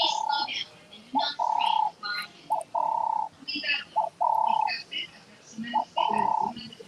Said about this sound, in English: That noise. It's a bird.